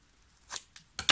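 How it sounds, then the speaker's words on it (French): Scissors cut paper for a Sweet Paris scrapbook album, giving a few quiet, crisp snips spaced irregularly over a second, with the last two louder and close together; no one talks. "Et ensuite, je vais couper comme d'habitude."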